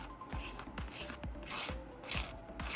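A 100-grit nail file roughs the edges of fingernails in quick, repeated rasping strokes, each a short scratchy burst close to the microphone, with a steady rhythm and no talking.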